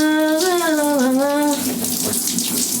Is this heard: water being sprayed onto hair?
yes